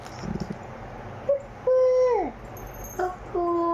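A voice imitates a koel's call with a few rising, hooting notes, separated by short pauses.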